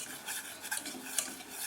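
Melting butter is stirred in a pan for a dessert: a soft, steady scraping and rubbing of a utensil against the pan, quiet and close, with a couple of faint clinks.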